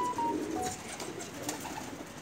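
A red-eyed Kamagar pigeon from a breeding pair coos softly, giving a few low, rounded calls close by at a quiet level.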